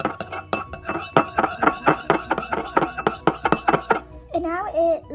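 Clicky slime being mixed by hand, producing a rapid run of sharp, close wet clicks and pops in a steady rhythm, ending in a short squelchy stretch.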